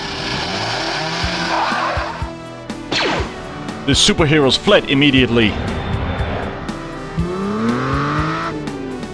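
A cartoon villain's car starts up and races off in pursuit, with revving, squealing tires and swooping engine passes that grow loud and choppy in the middle; a narrator speaks over part of it.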